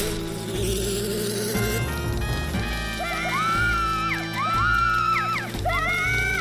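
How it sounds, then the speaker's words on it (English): An angry bee swarm is released on guards in the Majora's Mask video game, giving a busy buzzing drone that runs alongside game music and rising, sliding electronic tones. "What happens if we were to release a horde of angry bees on all these guards?"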